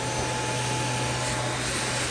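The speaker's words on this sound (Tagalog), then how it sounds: "Para iwas tayo damage ng roset ng babies, i-blower natin sila." An electric blower runs with a steady, unbroken whirring roar, loud and close, drying rain-soaked succulent rosettes, with no voices.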